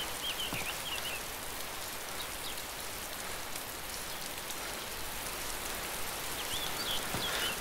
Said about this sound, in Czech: Dobrý je, že do baráku prší jenom trošičku, takže se tam můžete skovat před deštěm.